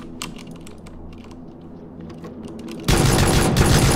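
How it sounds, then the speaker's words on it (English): Shotgun fire in a video game: after a stretch of quiet clicking and low hum, a loud sustained burst of gunfire erupts near the end and fills the sound. "A shotgun!"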